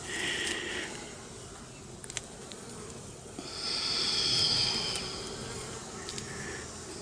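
Honey bees buzzing steadily around an open hive during a colony inspection after a split, a close, continuous hum that rises and falls as bees fly near.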